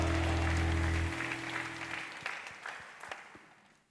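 A church congregation at a prayer meeting applauds, a broad wash of clapping that begins over a fading sustained organ-like chord, then thins into scattered claps and fades out.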